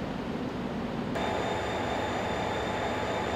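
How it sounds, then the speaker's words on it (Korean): A Janghang Line train runs along a single-track railway, its steady rolling rumble loud and continuous, with a faint high whine joining partway through. "이제 충남 천안에서 전북 익산까지 오가게 된 장항선 열차"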